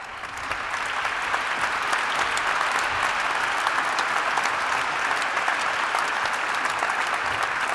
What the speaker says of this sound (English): a warm applause for the first 4 winners in this category of our awards